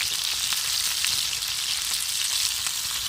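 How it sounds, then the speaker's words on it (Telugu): Food frying over a campfire at a camping spot, a steady loud sizzle with crackling pops throughout and no talk. "లైట్గా ఫ్రై అవుతూ ఉంది"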